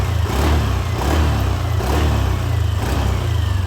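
A repaired Yamaha Aerox scooter engine revs up and down in several quick surges, the pitch rising and falling rhythmically over a steady low rumble.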